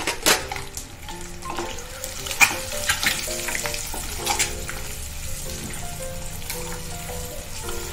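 Eggs fry in hot oil in a pan for a dhaba-style potato-egg masala curry, a steady close sizzle with scattered pops and crackles running throughout.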